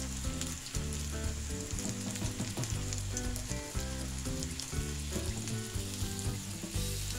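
Lentil and small shrimp fritters sizzle steadily in hot oil, a loud continuous frying crackle that runs unbroken with no voices over it.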